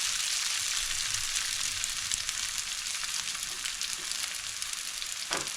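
Dry pasta for chicken chow mein hisses in hot oil in a pan as a steady, loud, continuous sizzle, with faint scrapes of stirring near the end.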